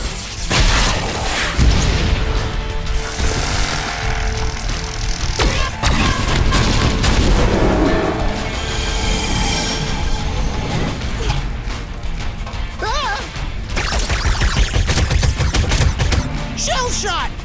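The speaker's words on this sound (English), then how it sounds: "Ivanjar, sniper cannon!" Cartoon battle from the Monsuno series, a sniper cannon attack fires in a long barrage of booms, mechanical clanks and rapid gunfire-like bursts, loud and continuous with brief voice fragments mixed in.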